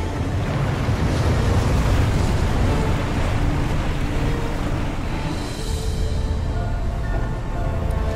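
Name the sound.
loud speedboat engine on water in Tomb Raider Underworld video game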